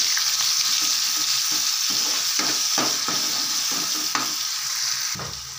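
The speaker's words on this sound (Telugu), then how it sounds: "ఆయిల్ వేడెక్కిన తర్వాత ఆనియన్ మనం పేస్ట్ పట్టుకున్నాం కదా, అది వేసుకొని కలిపేసుకోవాలి." Onion paste sizzles steadily in hot oil for cholai masala curry, a continuous bright frying hiss broken by repeated scraping strokes of a spoon stirring through the pan, close and fairly loud, easing off near the end.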